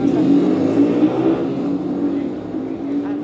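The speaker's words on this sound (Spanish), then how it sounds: "Pasó una moto muy fuerte." A loud motorcycle passes close by on a street in San Miguel el Alto, its engine roaring steadily and then slowly fading, with a faint murmur of voices underneath.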